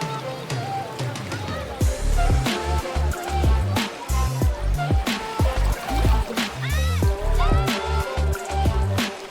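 Children splash and play in the water at Tungareshwar waterfall in Vasai, with sharp bursts of splashing mixed with their excited shouts and chatter.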